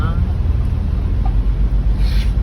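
Continuous low roadway rumble from street traffic on the way to a market, with a faint passing vehicle and no voices.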